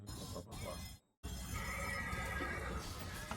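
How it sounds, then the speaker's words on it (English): The Icarus Mechanical, a mechanical horse in Bioshock Infinite, gives a loud whinny amid clip-clopping hooves. A voice carries on alongside, briefly dropping out before the neighing and hoof sounds resume. "Icarus Mechanical, the automatic stallion, the horse of the future, today"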